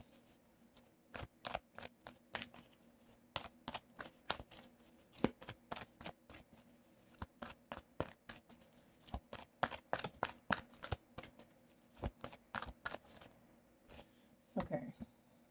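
Tarot cards are shuffled in quick, crisp riffles, a series of sharp fluttering bursts, fairly close and quiet.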